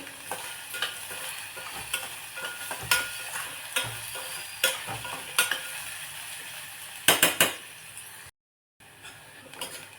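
Chopped onion sautés with a little salt in a pan, a continuous sizzle punctuated by repeated sharp scraping strokes of a spoon, close and clear, with a brief silent gap near the end.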